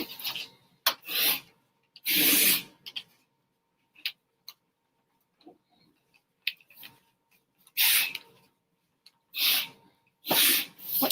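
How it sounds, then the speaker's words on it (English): Harsh rasping strokes of sanding with a worn sanding block, in irregular bursts separated by quiet pauses, close and fairly loud. "You can see how worn this sanding block is."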